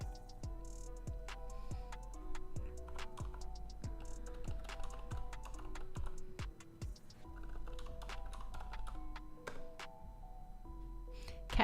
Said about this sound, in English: I'm just typing in caps here apparently